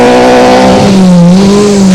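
A VW Polo rally car howls loudly and close on a South African rally stage, its engine holding a strong steady note that dips and climbs again over two seconds.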